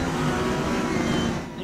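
A Porsche race car engine in the Raceroom racing game gives a continuous, loud buzzing drone with steady pitch, close and unbroken before easing slightly at the end.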